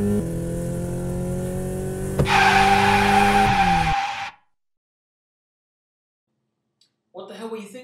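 A car drives fast with a steady engine drone, then a loud, harsh tyre skid screeches over it before everything cuts to sudden silence; a voice speaks briefly at the end.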